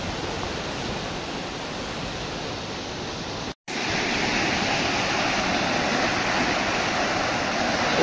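Fast-flowing water rushes through the Puri main canal in the rainy season, a loud, steady, close roar that cuts out for a moment partway through before resuming.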